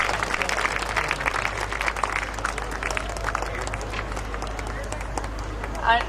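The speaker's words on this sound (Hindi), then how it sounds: "जोरदार तालियों से स्वागत कीजिए" At a Hindi poetry gathering, an audience claps to welcome a guest onto the stage, a soft, scattered spread of applause beneath an ongoing low room hum and faint murmuring.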